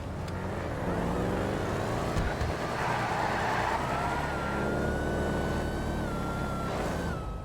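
Race car in GTA 5 accelerating hard with boost at a no-prep street race, a loud sustained engine roar with a rising whine that climbs steadily, then levels off near the end.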